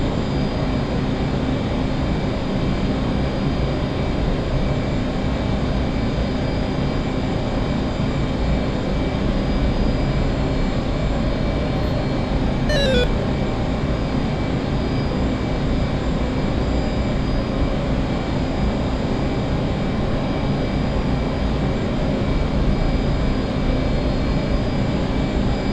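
Steady jet engine roar from an aircraft in a flight simulator game, throttle pushed toward full power during a combat mission flight; a continuous broadband drone holding level throughout, with a brief whistling sweep near the middle.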